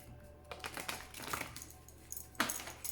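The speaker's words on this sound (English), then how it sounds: "Please think of your question as I shuffle the cards." Oracle cards being shuffled by hand give soft, papery riffling and tapping in quick irregular bursts, close and fairly quiet, with no voices.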